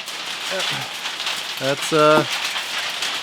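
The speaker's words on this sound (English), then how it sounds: "It's hailing right now." Hail falls outside as a dense, continuous hiss of pattering impacts, with voices speaking briefly over it.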